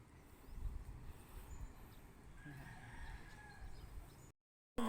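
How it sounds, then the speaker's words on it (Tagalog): Live chickens on a rural farm, with a rooster crowing and hens clucking at a moderate distance over a steady outdoor background, ending in a brief silence. "dito may mga manok si Uncle na buhay"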